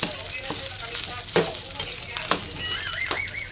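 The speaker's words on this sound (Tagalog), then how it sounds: "Yan, nalagay na po natin yung kanin. Haluin lang po natin." A spatula stirs cooked rice in a frying pan over heat for a home breakfast, with a soft continuous sizzle broken by a few sharp scrapes and clinks against the pan.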